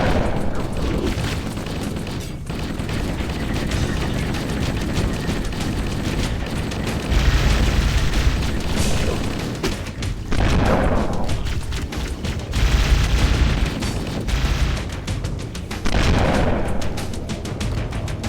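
Booming grenade blasts in the shooter game Halo, several heavy explosions spaced a few seconds apart over continuous battle noise and gunfire, loud and close.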